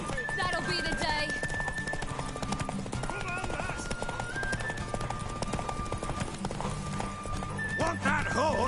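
A horse's hooves clip-clop steadily and it neighs in The Witcher 3 video game, with voices speaking over the galloping rhythm throughout.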